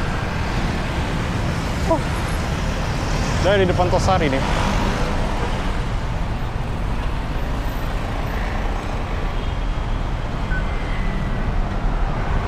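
Night traffic on Jalan Sudirman in Jakarta, heard from a bike lane: a steady roar of passing cars, trucks and buses, with a brief hiss of air brakes, while a person talks over it.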